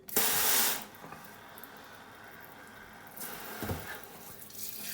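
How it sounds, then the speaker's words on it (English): Running tap water splashes into a kitchen sink as a gutted horse mackerel is rinsed, a loud burst of spray at first, then a steadier, quieter flow with a second swell near the end. "Then I'll stick it back in the sink and rinse it out."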